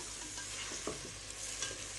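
Tomatoes for a palak spinach curry sizzle and fry in a pan while being stirred, a soft continuous hiss broken by light scraping strokes, close and quiet with no talking.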